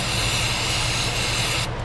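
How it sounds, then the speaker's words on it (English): A steady, loud hiss of aerosol mass airflow cleaner sprayed into a Ford Escape V6 throttle runs continuously close by, with no pauses, then cuts off abruptly near the end. "I'll give that thing some spray just to kind of clean some of that varnish or carbon out"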